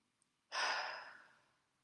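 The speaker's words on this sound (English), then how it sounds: "take a few deep breaths in through your nose and out through your mouth" A single deep exhale out through the mouth during a calm relaxation exercise: a soft, breathy rush that starts abruptly, then fades slowly over about a second and a half in quiet surroundings.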